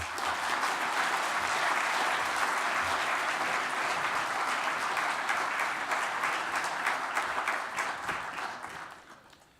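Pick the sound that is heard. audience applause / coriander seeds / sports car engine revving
audience applause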